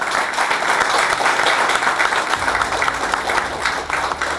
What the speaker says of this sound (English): I would request all the people sitting in this hall to have a great round of applause